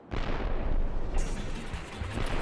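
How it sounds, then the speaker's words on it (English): Cannon fire in the Paper Mario: The Thousand-Year Door video game, a burst of booming blasts followed by a crackling second wave, dense and sustained, with no talking. "Someone's firing on us with cannons."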